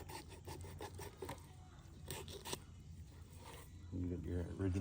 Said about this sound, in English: you take the tip of your knife and just score it along the rib cage